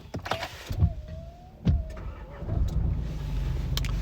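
A 2017 Nissan Navara 2.3 dCi 190 diesel pickup starts: a rising electrical whine, a sharp catch as the engine fires, then a steady, low idle rumble that settles in close by.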